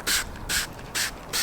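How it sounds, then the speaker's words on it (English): Four short hissing bursts of ceramic top-up spray hit a car body panel in a steady rhythm, close and moderately loud with brief pauses between them. "I'll just spray it on like this"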